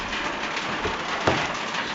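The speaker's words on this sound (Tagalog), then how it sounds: "Kasi umuulan." Rain falls steadily outside a house, a continuous broadband patter and hiss with a few louder drop hits, close and fairly loud.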